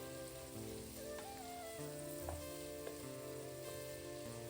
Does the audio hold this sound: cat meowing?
no